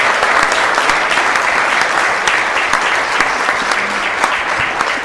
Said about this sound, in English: let's give them a round of applause for the girls volleyball team